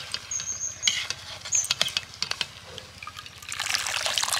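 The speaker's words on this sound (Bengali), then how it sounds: "জল ঝরিয়ে তুলে নিয়ে একটা প্লেটের মধ্যে রেখে দেবো ঠান্ডা হওয়ার জন্য।" Water drips and trickles off boiled pumpkin leaves as they are lifted from a pot, a close series of soft patters and small splashes that grows into a steadier run of dribbling toward the end.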